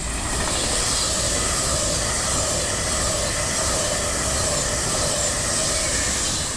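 An Avanti West Coast Class 390 train passes through Crewe station, a loud continuous roar with rushing wheel and rail noise that holds steady throughout.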